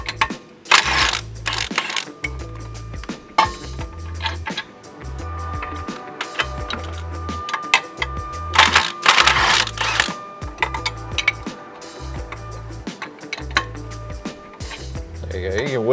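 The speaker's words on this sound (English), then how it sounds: "You can wiggle the bolt if it's stuck with the wrench and then it'll pull out" A wrench works a stuck control arm bolt loose on a 2008-onward Mitsubishi Evo X during a coilover install, giving repeated metallic clanks and ratcheting clicks in bursts, close and fairly loud, with a steady low mechanical drone underneath.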